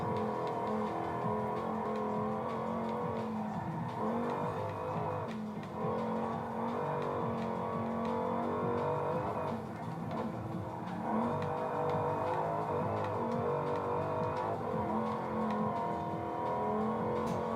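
A Dodge engine revving hard in a racing video game, held high in the rev range in a higher gear; a loud, continuous droning roar with small dips and rises, heard alone without talk.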